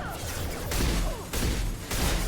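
Scimitar shotgun from Mass Effect 2 fired in quick succession, a few heavy booming blasts with bursts of debris and whooshing effects, with faint talk in the background.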